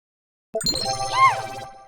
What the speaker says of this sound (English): notifications are working